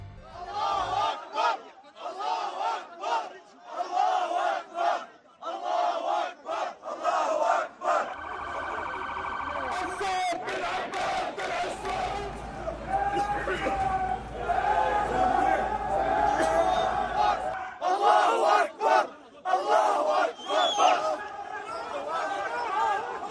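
A large street protest crowd chants slogans in support of Palestine and Hamas, rhythmic shouted phrases rising and falling loud and close, with a siren-like wail and crowd noise swelling in the middle.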